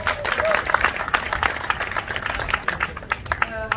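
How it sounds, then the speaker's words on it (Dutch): Crowd applause at an outdoor demonstration for basic income, a dense patter of clapping that thins out toward the end, with some voices mixed in. "Graag een applaus voor haar."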